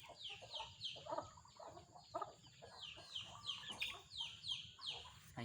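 Chickens cluck and chatter continuously in a repeating rhythm, moderately close, against a low background rumble.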